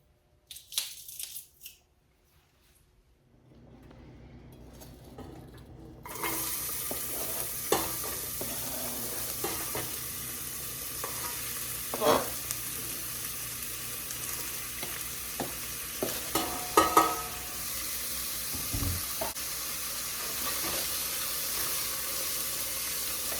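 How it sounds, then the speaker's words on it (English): Onions and garlic sauté in a couple of tablespoons of hot olive oil, a steady close sizzle that flares up after a few seconds of near quiet, with occasional stirring scrapes and pops and no talking. "a couple of tablespoons to saute the onions and the garlic"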